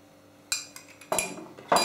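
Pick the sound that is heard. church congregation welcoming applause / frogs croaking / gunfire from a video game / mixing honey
mixing honey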